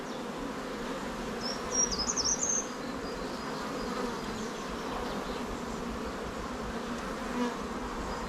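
Honeybees in an artificial swarm hive buzz as a steady close hum throughout, with a few brief higher whines from individual bees flying near.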